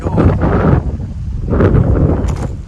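Strong outdoor wind buffeting the microphone in gusts near an old fire tower, a continuous low rumbling roar that swells and eases, with no clear voice over it.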